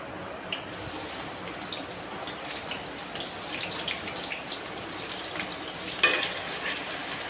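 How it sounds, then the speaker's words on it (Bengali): A large batch of four or five chopped onions sizzling softly in a pan, a faint, steady frying hiss with a slight stir-like clatter near the end, no talking. "এটাকে আমি এখন ভাজবো, একটু লাল লাল করে ভাজবো।"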